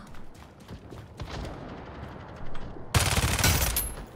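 Rapid automatic bursts from a Vector gun in the shooter Battle Teams 2, with scattered shots at first and then a loud, close burst near the end.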